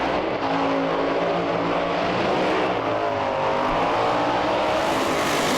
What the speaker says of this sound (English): Bit of an out-of-shape burnout for Andy Wright in the hot rod